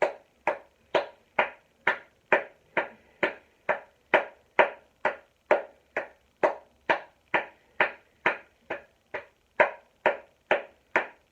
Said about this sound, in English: Clap. Clap in front of the frontal lobe.